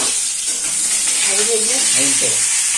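Meat cooks in a pan with a steady, close sizzling hiss that runs throughout, while a voice briefly murmurs over it.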